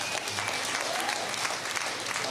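A stand-up comedy audience applauds, dense and steady clapping filling the whole stretch at an even level, with no voices on top.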